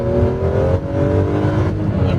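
A BMW X6M engine revs hard as the car accelerates, a loud, close, steady droning roar that holds strong for about two seconds with no talk.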